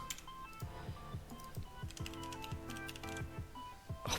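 Keys clatter in quick, uneven bursts as someone types code on a computer keyboard, close and fairly quiet, with steady clicking through the whole stretch and no talking.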